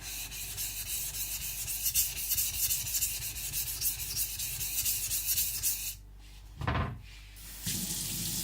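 A Shibata Kotetsu gyuto knife is ground on a wet Shapton Pro 220 stone, giving steady close rasping strokes for about six seconds, then a brief pause, a short louder burst, and a final stretch of rubbing.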